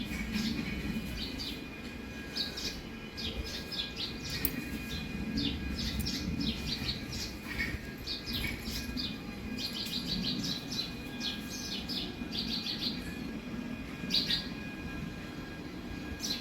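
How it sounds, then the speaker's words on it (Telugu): Many small birds chirp and tweet busily and continuously, a dense, noisy chorus of high calls over a low background hum. "పిట్టలు అల్లరి చేస్తూ ఉన్నాయి."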